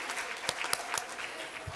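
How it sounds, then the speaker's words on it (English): An audience at a Newark literacy symposium applauds in a brief, steady burst of clapping from many hands, fairly loud and close, with no one speaking over it. "Let's give a round of applause."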